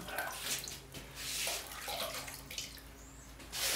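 Thick ceramic glaze poured into a pot and back out, a close splashing, gurgling liquid pour that rises and falls in uneven surges with brief pauses.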